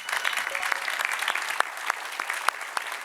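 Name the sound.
audience applause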